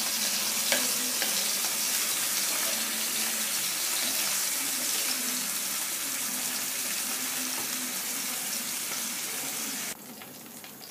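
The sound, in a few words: paneer frying in oil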